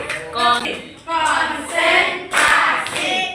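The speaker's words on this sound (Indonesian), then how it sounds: "Nah, sekarang buat tepuk konsentrasi." A class performing a rhythmic concentration clap, bursts of group clapping in short patterned phrases with pauses between, voices chanting along over them.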